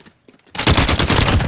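Loud, sustained automatic fire from the RAAL MG light machine gun in Call of Duty: Modern Warfare bursts in after a quiet moment and keeps hammering densely.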